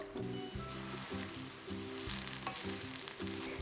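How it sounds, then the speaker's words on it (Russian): Onion sizzles and crackles in hot vegetable oil in a pan, a steady close frying hiss with rhythmic stirring scrapes and no talking. "Разогреваю сковороду с растительным маслом и выкладываю лук."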